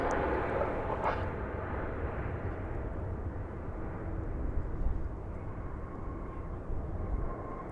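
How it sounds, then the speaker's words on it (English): An American Airlines Airbus A321 in Piedmont heritage livery, arriving from Palm Springs, rumbles past at DFW Airport with a broad, steady low roar and hiss of jet engines, continuous and moderately distant. "It's an Airbus A321."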